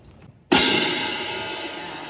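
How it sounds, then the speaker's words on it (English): A single hit on a crash cymbal in a school band demonstration bursts out loud and bright after a moment of near-quiet, then washes and decays slowly. "we're going to show you a crash cymbal"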